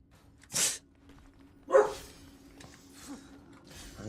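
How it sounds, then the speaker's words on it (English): A dog barks twice, a sharp bark early on and a louder one near the middle, followed by softer rustling and faint low noises. "I'm so sorry for the barking."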